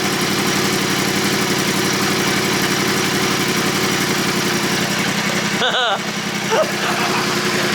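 An overhauled Yamaha R1 big bang engine idles steadily and loudly up close, with a faint clutch rattle in its even, throbbing rumble, and a brief sharp noise near the end.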